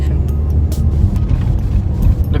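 A Hyundai Creta accelerates on the road, a loud low engine rumble and road roar from inside the cabin that holds steady, with faint clicks and rattles above it.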